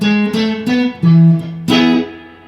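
Electric guitar picks out the E section of a riff, a short run of clear sustained single notes stepping up and down in a steady rhythm, close and alone.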